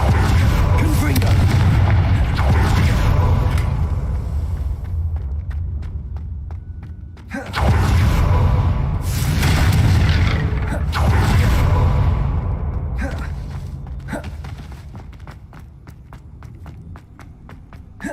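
Fire-spell explosions in Hogwarts Legacy, a video game, land as heavy booming blasts, with a large burst about midway. Footstep-like movement and game mechanisms sound between them, and the blasts fade toward the end.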